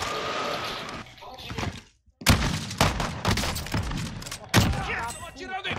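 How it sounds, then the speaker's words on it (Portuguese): Video game gunfire, bursts of loud sharp shots in rapid, uneven volleys close by, with people talking excitedly over them. "Estão atirando em mim!"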